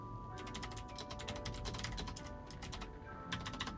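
Rapid bursts of computer keyboard typing during play of the typing game Blood Typers, dense key clicks clustered in quick runs with a brief pause before a final flurry, close and clear.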